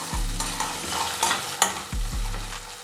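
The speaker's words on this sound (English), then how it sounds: "Stir it around." Raw cashews are stirred around in a hot cooking pan, with steady sizzling and a few spoon knocks against the pan, with no talking.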